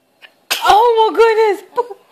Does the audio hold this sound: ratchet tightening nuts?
no